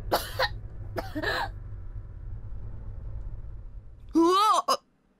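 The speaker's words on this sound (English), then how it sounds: "This just seemed to make her cough." A voiced cough and throat sounds from a character in the video game Corpse Party: Book of Shadows come in short bursts near the start, then a strained, wavering vocal outburst near the end.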